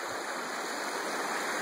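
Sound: creek water flowing

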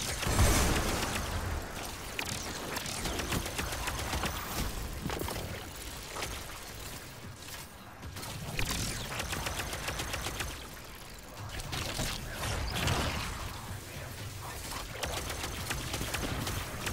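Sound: gun hip-fired in Destiny 2: Lightfall video game

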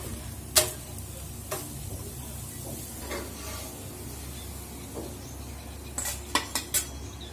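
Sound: removing masala amboli from the pan onto a plate

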